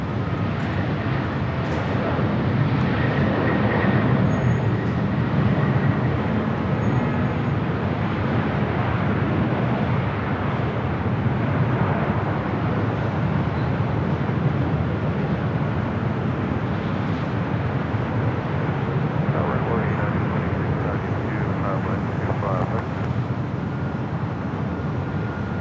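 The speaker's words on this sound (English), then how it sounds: "So Japan Dreamliner heading to Tokyo Narita" Japan Airlines Boeing Dreamliner jet departing LAX for Tokyo Narita, a steady broad engine roar with low rumble holding at constant loudness throughout, no clear rise or fade.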